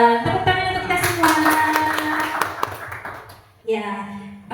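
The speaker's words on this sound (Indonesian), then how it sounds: "Tepuk tangan untuk kita semua." Applause from an audience at a teachers' event comes through as brief clapping under loud musical tones and a voice, then dips before the music returns.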